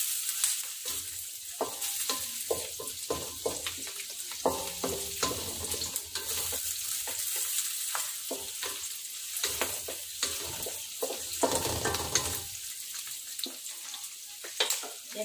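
Onions frying in a pan for pork adobo, a lively crackling sizzle with frequent stirring scrapes and clatter, close and continuous for several seconds.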